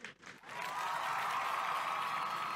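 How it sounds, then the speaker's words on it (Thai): An audience at a trading seminar reunion breaks into applause after a brief quiet start, then keeps up dense, even clapping at moderate distance until the end. "ไม่ปรบมือให้ตัวเองแล้วครับ"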